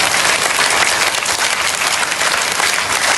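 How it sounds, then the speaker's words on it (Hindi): Audience members applaud together at a storytelling session, a dense, steady burst of hand clapping that fills the whole stretch at close range with no voices over it. "दोनों हाथ ऊपर करें और ज़रा ऐसे ताली बजा के दिखाएगा।"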